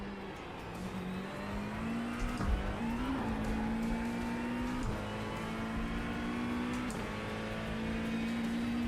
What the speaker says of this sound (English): I can hear his car